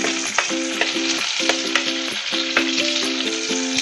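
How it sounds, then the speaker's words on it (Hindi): Curry leaves, green chili and mustard seeds sautéing in hot oil in a pan, a steady loud sizzle with crackling pops, overlaid by repeated rhythmic scraping strokes of stirring. "इसको फ्यू सेकेंड्स के लिए सौटे कर लेंगे।"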